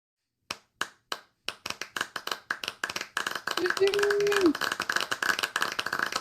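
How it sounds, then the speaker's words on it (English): Audience applause in a classroom setting, starting as a few separate claps that build into a denser round of clapping from a small group, with a brief voice partway through. "Let's give her a round of applause."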